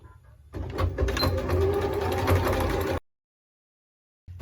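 A sewing machine stitches folded fabric in one steady, close, whirring run of about two and a half seconds, then stops into silence.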